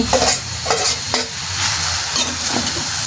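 Puttu being stirred and fried in a pan, with repeated scraping strokes of a spatula over a steady close sizzle, roughly every half second, with no voices.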